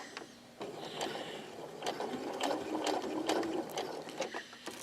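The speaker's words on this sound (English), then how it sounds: "it's just a little top stitch, and I'm going to back stitch" Sewing machine top stitching and back stitching a fur lion costume, a fast rattling mechanical whir running in short bursts at moderate volume.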